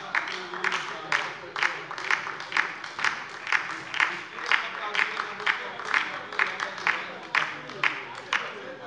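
Cross-party applause fills a parliamentary plenary chamber, many hands clapping in a fairly steady, pulsing rhythm at close range that carries on without a break.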